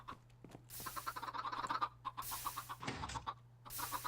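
Chickens cluck repeatedly in the Minecraft video game, with several close, clear bursts of clucking separated by short pauses, no talk over them.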